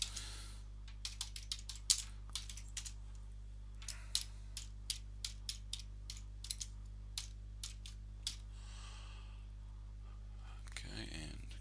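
Quick bursts of clicking keystrokes on a computer keyboard as code is entered, irregular and close, over a steady low electrical hum, ending in a short flurry of rapid clicks.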